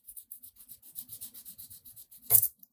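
Rhythmic rubbing strokes of a FRTLZR fret tool polishing scratches off guitar frets, a steady series of about fifteen soft, short scrubs ending in a louder, harsher burst of abrasion, close and alone.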